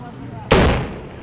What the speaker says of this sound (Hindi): दरअसल ये कितना जोरदार धमाका था।